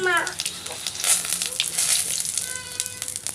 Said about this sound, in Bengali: দেখো জিরা পোড়ন জিরাটা একটু